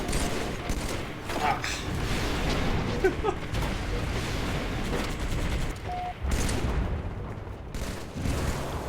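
Dense, sustained weapon fire from an automatic gun that never overheats, in the video game Halo 3, rattling steadily for the whole stretch with chaotic battle noise around it and a brief vocal exclamation.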